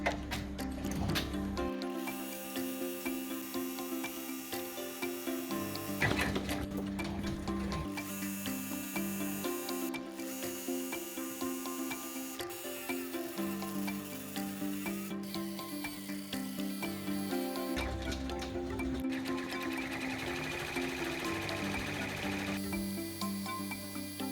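An embroidery machine stitches a harvest design onto a garden flag. It makes a continuous, rapid mechanical clatter and whir with a few brief shifts in pace and tone.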